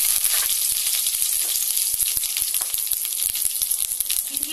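Curry leaves crackle and sizzle in hot oil in a kadai after mustard seeds go in, for a winter fish gravy; a steady bright hiss with dense popping runs throughout, loud and close, with no talk.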